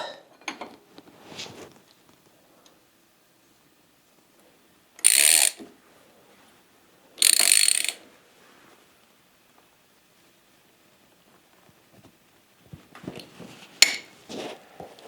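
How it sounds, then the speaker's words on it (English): Cranks being fitted to a vintage 1986 Peugeot Orient Express bike: a few soft metallic clicks and rattles, two short sharp bursts of ratcheting or clanking in the middle, then more clinking near the end, quiet in between. "Put the cranks on."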